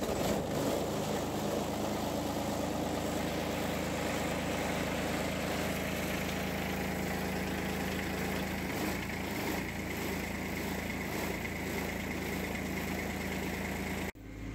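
A farm tractor engine runs steadily at idle near a barn, a loud, continuous low mechanical drone with no voices, cutting off abruptly at the end.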